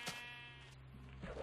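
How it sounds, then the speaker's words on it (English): A single sheep bleats in a video game, a short, faint, wavering call standing alone against quiet background. "Ooh, sheep!"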